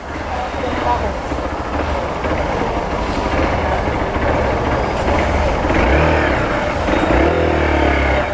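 A Hero XPulse 200 4V motorcycle engine drones steadily during a test ride, with loud continuous running and wind rush, and no clear talk over it.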